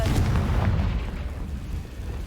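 A deep, rumbling blast from the Confringo spell in the video game Hogwarts Legacy, a heavy boom that rolls on as sustained low-end rumble, loud and close with no voices.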